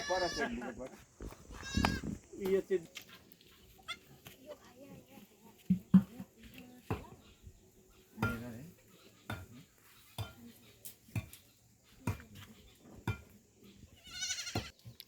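A billy goat bleats a few times amid farmyard clatter and people talking, the calls short and fairly close.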